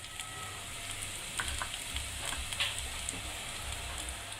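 Onions frying in a kadhai while being stirred, a soft, even sizzle with a few light scraping taps from the spoon, quiet and close.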